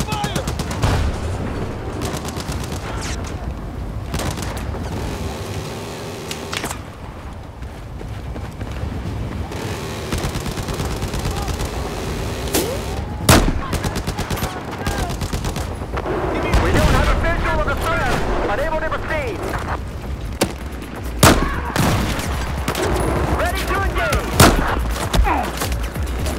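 Battlefield 4 campaign combat: repeated rapid gunfire bursts and sharp single shots over a constant rumbling battle bed, with loud cracks toward the end and shouted voices mixed in.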